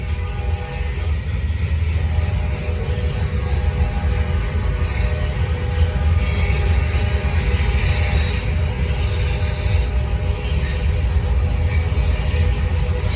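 A Norfolk Southern freight train rolls steadily past nearby, with continuous rumbling wheels and clattering railcars and a high wheel squeal rising at times.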